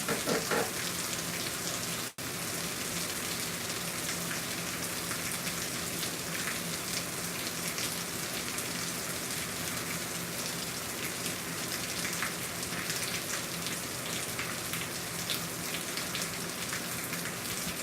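Steady rain falls and patters on surfaces, a dense, even hiss that runs on without pause, close and unbroken with no voices.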